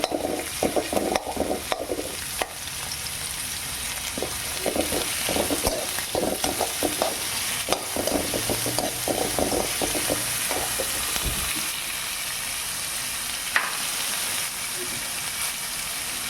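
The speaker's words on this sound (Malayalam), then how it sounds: "അത് കുറച്ച് സമയം വഴറ്റണം കേട്ടോ" Onions sizzle in hot oil while a spoon repeatedly scrapes and stirs the pan, the clatter fading into a steadier hiss toward the end.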